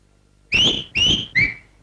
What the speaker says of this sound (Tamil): என்ன நீ விசில் அடிக்கிற?